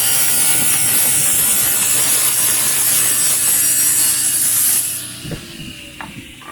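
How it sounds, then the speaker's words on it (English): A blade saws through a wooden drawer side to cut off the dado, a loud continuous grinding rasp for about five seconds before it stops, followed by a few faint knocks. "I then set up the blade to just cut off the dado."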